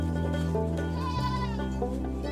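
Goats kept as family livestock in rural India bleat loudly and close by, a couple of wavering calls overlapping with a steady low hum beneath.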